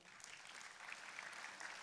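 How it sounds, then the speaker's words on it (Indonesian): A church congregation applauds at a Christmas service, a faint, dense and even patter of clapping from many hands sustained for the whole moment. "Jangan tepuk tangan dulu saudara"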